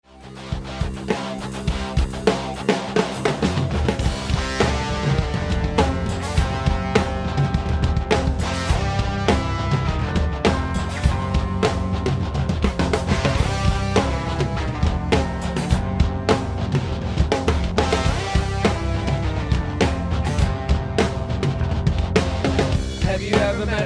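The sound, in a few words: drum tom groove, eighths on floor tom with snare beat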